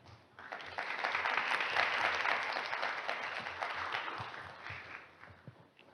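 A conference audience applauds Professor Mamoru at the ISSM 2022 symposium, a dense, steady wash of many hands clapping that swells quickly, holds for several seconds and then thins out.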